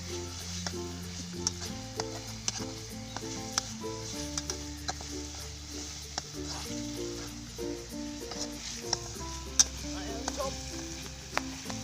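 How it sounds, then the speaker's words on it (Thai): Eel pieces frying until crispy in a hot pan give a steady, dense sizzle with occasional crackles, running under continuous background music. "ทอด ทอด ทอดกรอบไปเดี๋ยวทอดอย่างเงี้ยท่านผู้ชม"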